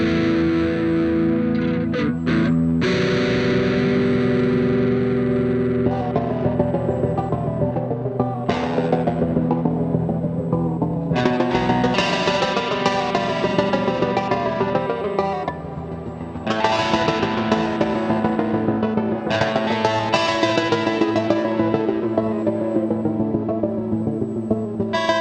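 Telecaster electric guitar played through a rig of effects pedals, ringing chords and arpeggios washed in chorus, echo and reverb with some drive, swelling and cutting in phrases, loud and without talk.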